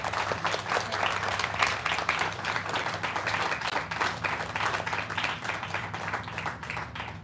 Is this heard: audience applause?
yes